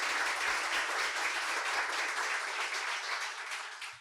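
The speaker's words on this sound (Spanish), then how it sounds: "Un aplauso para todos y todas" An audience at a panel on preventing corruption in public procurement breaks into steady applause, a dense wash of clapping that carries on for a few seconds and then begins to fade.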